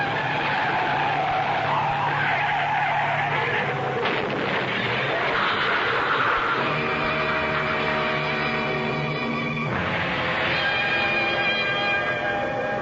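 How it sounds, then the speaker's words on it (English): A radio-drama sound effect of a car skidding on a highway with long, loud, sustained tire squeal that shifts pitch several times, leading into the impression of the car crashing through a guardrail; no voices are heard. "the skid that sent him hurtling through the guardrail"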